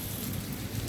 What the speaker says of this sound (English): And it started the thunderstorm.